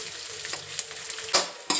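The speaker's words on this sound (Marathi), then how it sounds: "थोडा थोडा करून आपण हा डिंक तळून घेऊ" Edible gum (dink) frying in hot ghee, a continuous close sizzle with bright bursts of crackling and spitting as pieces hit the fat and are stirred.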